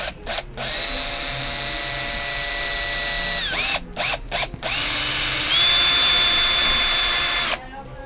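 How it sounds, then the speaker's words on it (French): A power drill runs steadily through a bodyboard with a 5 mm wood bit to bore a plug hole, its whine broken by a few short pauses and a shift in pitch partway through, close and loud with no talking. "et nous perçons."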